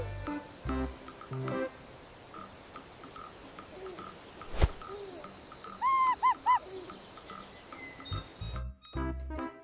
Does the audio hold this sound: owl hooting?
yes